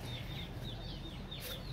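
Chicks cluck faintly and continuously in a dry coop kept warm with heat lamps, a soft, steady chatter over a broad wash of background noise.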